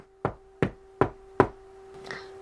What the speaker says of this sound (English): Papa knocked on the door again.